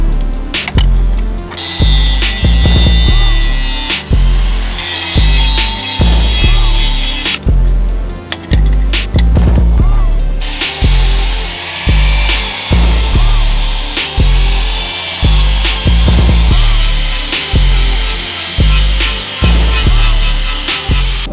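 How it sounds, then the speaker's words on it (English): A sanding disc on a power tool smoothing ground-down welds on a 1993 Toyota 4Runner truck frame, a loud, close, harsh grinding whine in repeated passes broken by brief pauses and shifts in pitch. "I'll take the sanding disc and I'll sand it smooth so it's a nice"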